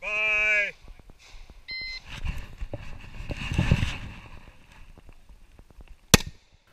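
Gunfire on a practical shooting range stage: a shot-timer beep opens, followed by a scattered run of sharp cracks with one loud, close report near the end.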